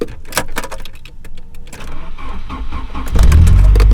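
A Volvo 740 whose battery had been dead is started up close: clicks and rustling come first, then the engine catches near the end and settles into a loud, steady low rumble. No one talks.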